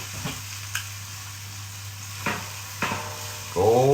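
Tomatoes and beans frying in a pan for an English breakfast, a steady sizzle with a few soft stirring clicks, and a louder burst of frying at the end.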